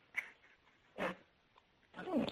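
Faint dog barks come through a phone line, three short muffled yelps spaced apart and heard thin and distant, as over a telephone call.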